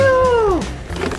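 A domestic cat gives one loud, close meow that slides downward and fades out, followed by faint rustling and handling noise.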